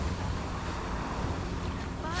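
Steady sea wind blowing across a beachfront in La Union, Philippines at low tide, a continuous broadband rush with a faint surf wash beneath it, close to the microphone and without any clear voices.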